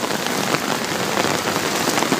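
Heavy rain mixed with hail pours down during a storm over the flooded streets of Messina, a dense, steady hiss of drops hammering surfaces throughout, loud and close with no voices.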